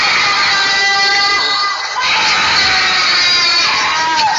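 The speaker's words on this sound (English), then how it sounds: "the night air is filled with the chilling sounds of blood-curdling screams" Shrill, blood-curdling screams ring out at night from an unseen person or creature, sustained high wailing cries heard from a distance through a window amid a faint crowd-like murmur.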